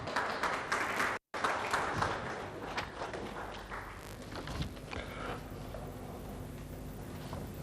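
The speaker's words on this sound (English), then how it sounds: "Can we give them a round of applause, please?" Indoor audience applause at an event on improving government revenue, with a broad wash of clapping that fades gradually over several seconds after a brief cut.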